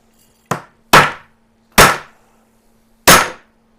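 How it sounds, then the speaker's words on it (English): Four sharp, loud hammer blows strike a hard drive at irregular intervals, each a hard metallic crack with a short decaying ring, against a faint steady hum and no talk. "You actually weren't able to break it with the hammer."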